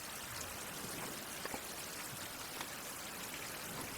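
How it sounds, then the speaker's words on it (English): In a survival video game, a water tank fills from a steady trickling stream, a faint continuous pouring wash with a few soft drip-like ticks. "does that mean this is filling up with water?"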